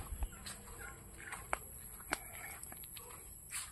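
A turkey gobbles in a farmyard among chickens, giving short faint calls and clucks at a moderate distance with a few sharp knocks in between.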